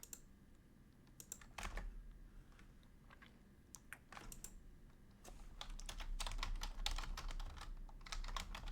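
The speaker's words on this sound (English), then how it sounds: "I just go around typing out names." Typing on a computer keyboard, bursts of quick, close keystroke clicks in uneven clusters with short pauses between them, growing busier toward the end.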